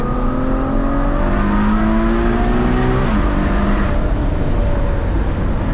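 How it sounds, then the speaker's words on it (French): A Ferrari GTC4 Lusso V12 of 690 hp revs loudly and continuously up close, its shrill engine note climbing through the gears, dipping briefly, then rising again without pause. "cette symphonie en V12 majeur"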